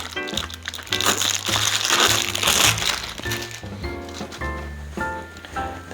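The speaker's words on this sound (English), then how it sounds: "So now we'll unwrap our pedals." Bicycle pedals for an Electra Townie 7D are unwrapped from plastic packaging, giving loud, close crinkling and crackling bursts of plastic with a few irregular pauses.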